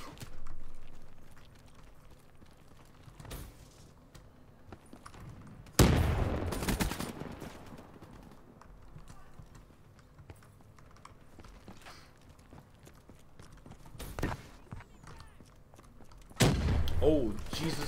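Gunfire in the Black Ops 3 multiplayer beta on PC, a few short loud bursts of shots separated by quieter game ambience, the sharpest volleys near the middle and end.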